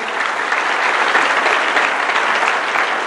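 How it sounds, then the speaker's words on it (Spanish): Audience applause at a live comedy and music show, a full crowd clapping in a thick, even roar that holds steady from start to end. "gracias por ese aplauso"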